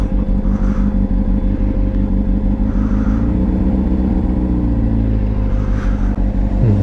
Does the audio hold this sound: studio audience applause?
no